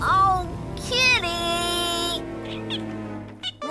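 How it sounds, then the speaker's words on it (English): A cartoon cat meows in a high, stretched voice, several rising and falling calls in close succession, loud and upfront with a brief voiced exclamation near the end. "Oh, kitty!"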